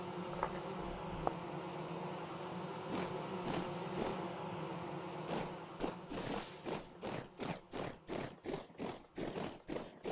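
Buzzing bees in the game Vintage Story, a low steady drone at first that turns into a run of regular pulsing swells toward the end, with no talking over it.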